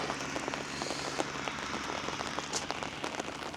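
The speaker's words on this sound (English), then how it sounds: "according to the forecast it's not going to stop raining for the next few days" Steady rain patters on a hard surface outdoors during a stop on a rainy road trip in Portugal, a dense continuous hiss of drops, close and even, with no talk.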